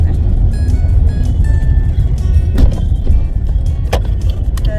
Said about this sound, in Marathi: सुटलं ट्रॅफिक, मी गाडी चालवते.